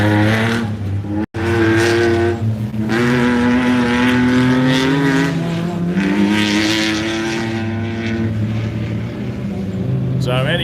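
Racing buggies, including one driven with a 3.5 litre motor and a Murphy buggy, roar loudly and continuously with rising and falling engine pitch, a live commentator talking over the sustained racing noise.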